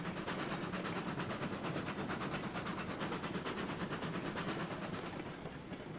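A train in the video game Railroads Online running at full speed, with loud, steady rhythmic clickety-clack of wheels on rail joints over a continuous rumbling roar.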